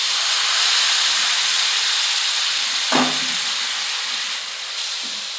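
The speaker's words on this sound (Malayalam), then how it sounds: "ഒന്ന് ചെറുങ്ങനെ മൂത്ത് വരുമ്പോൾ നമുക്ക് വിനാഗിരി ഒഴിച്ച്" Vinegar hits hot fried spice powders for a papaya pickle, releasing a loud, continuous steam hiss that stays strong throughout, with a brief clatter around the middle and no speech.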